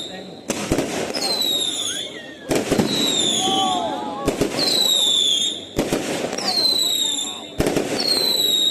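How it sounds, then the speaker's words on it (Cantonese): Fireworks crackle and boom in repeated bursts about every one to two seconds, with whistling streaks and a murmuring crowd in the background, at a Lunar New Year display. "跟住就有超過10分鐘嘅煙花表演，真係好靚、好震撼嘅場面。"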